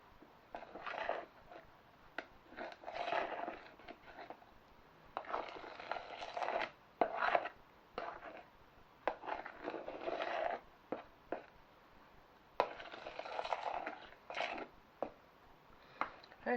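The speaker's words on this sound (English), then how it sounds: "we're just going to fold this into the mix" Banana being folded into a sponge pudding mix in a bowl gives soft, irregular squishy scrapes and wet swishes, repeated strokes with short pauses between them, close and fairly quiet.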